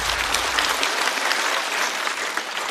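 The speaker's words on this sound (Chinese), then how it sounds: "再次掌声送给二哥。" A comedy club audience bursts into loud, sustained applause for stand-up comedian Erge, dense clapping from a crowd filling the room without a break.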